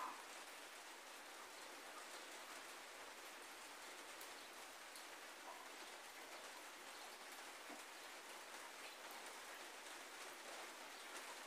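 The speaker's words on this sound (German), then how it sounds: "Und es regnet heute." Rain falls steadily outdoors, a faint, even hiss of drops on surfaces with no voices and no change in intensity throughout.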